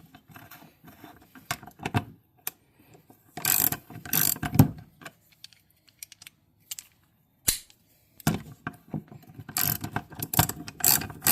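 A half-inch socket wrench ratchets in bursts while bolting down parts during a motor rebuild, quick clicking runs separated by pauses, close and fairly loud against a quiet background.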